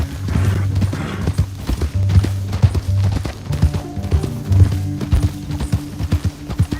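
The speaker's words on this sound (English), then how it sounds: "get off your horse" Horse hooves clip-clop steadily in Red Dead Redemption 2, a loud close rhythm of hoofbeats at a walking or trotting pace with a brief whinny and faint background voices.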